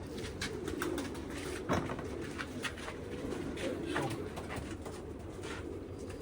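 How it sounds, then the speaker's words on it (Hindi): Parel pigeons, a flock of fully feathered birds, coo steadily in low overlapping rumbles, with a few sharper wing or perch noises breaking through a constant close backdrop. "परेल कबूतर हैं सारे ये"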